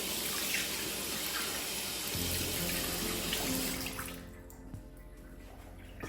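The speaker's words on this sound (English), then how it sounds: "Using warm water." Warm water running from a tap for hand washing before a facial, a steady close hiss of flowing water that shifts in tone partway through and then thins out toward the end, with no voices.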